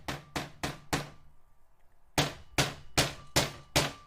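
A game controller rapped hard against a desk in two quick series of sharp knocks, four then six, close and loud with a brief quiet gap between.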